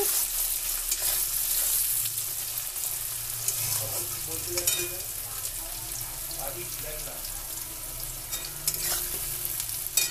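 Onions frying in a pan for a tilapia and bean dish, a steady close sizzle with frequent stirring and scraping running throughout at an even level.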